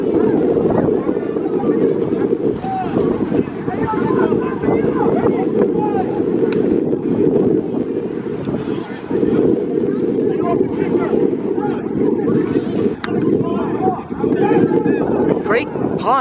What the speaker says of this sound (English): I am not exaggerating when I say it is very, very windy.